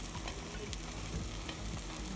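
Egg omelette frying in a pan, a steady soft sizzle with faint stirring or scraping touches throughout, no talking.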